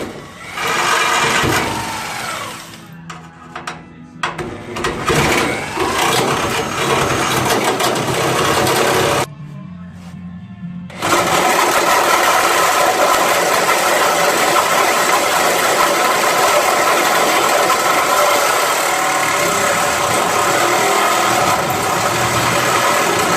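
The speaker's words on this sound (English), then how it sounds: "I'm going to cut real close here with my Sawzall" Sawzall reciprocating saw cutting through the floor pan of a 1968 GTO, a loud sustained buzzing rasp with a couple of short pauses before running steadily again, close up and alone.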